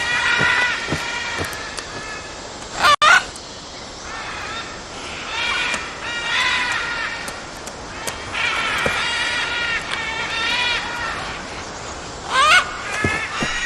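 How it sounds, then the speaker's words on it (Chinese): Great green macaws call in a Caribbean cloud forest during mating season. Harsh, raspy squawks come in bursts, with a loud, close cry near the start and another near the end, over a dense forest background. "此时正是交配季节，一只雌性大绿金刚鹦鹉示意它献出美食。"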